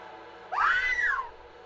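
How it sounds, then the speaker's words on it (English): A single drawn-out scream rises and falls in pitch for under a second during a Vampire: The Masquerade – Bloodlines cutscene, loud and close over a quiet background. "And we're screaming"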